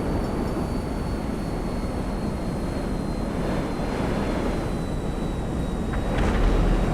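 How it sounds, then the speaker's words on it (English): A plane flying in the video game GTA Online, its engine drone steady and loud through the whole stretch, a broad continuous roar with no talk over it. "I have to remind myself that I had to turn my plane"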